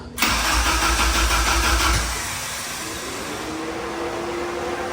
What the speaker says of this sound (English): Go ahead and crank it over a few times